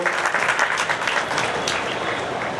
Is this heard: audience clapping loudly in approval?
yes